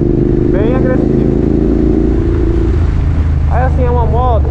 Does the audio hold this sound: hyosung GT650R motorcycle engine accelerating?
yes